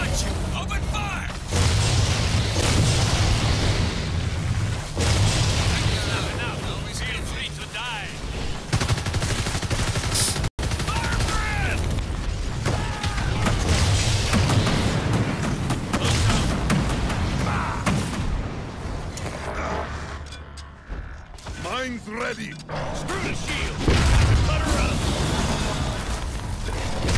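Evolve battle in which continuous machine-gun fire and booming explosions fill the scene, rattling on almost without pause and dipping briefly near the end, with voices talking over the combat.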